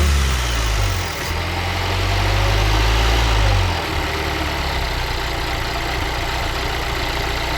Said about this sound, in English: When you take the oil cap off, it should idle down to where it's supposed to.